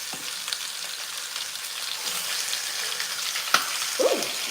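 Four chicken pieces frying in hot oil for adobo, giving a steady close sizzle with a couple of sharp pops and spatters near the end; no talking.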